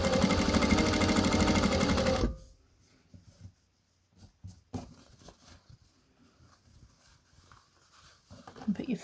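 A sewing machine top stitching a fabric face covering runs in a fast, loud, close burst for about two seconds, then stops, leaving faint handling noises and a brief restart at the end.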